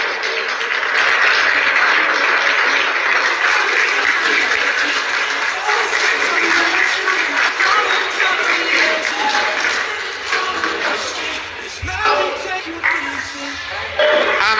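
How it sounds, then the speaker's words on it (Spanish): Audience applause at a beauty pageant fantasy-costume award for Miss Amazonas, loud, dense and sustained from the start, thinning slightly toward the end with a few scattered voices over it. "Un aplauso."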